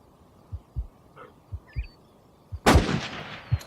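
A single loud hunting rifle shot in the video game Cabela's Outdoor Adventures, a sharp crack with a long rolling echo, set against soft repeated footstep-like thuds and faint birdsong in a quiet outdoor scene.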